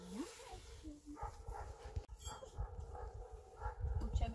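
A neighbour's dog makes soft whimpering and whining sounds, fairly faint, mixed with low rustling and indistinct voices in a domestic setting.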